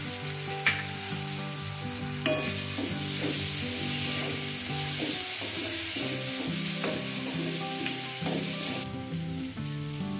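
Chopped tomato sautés for chana masala usal in a loud, continuous sizzle, with a spoon stirring it and clinking against the pan at intervals.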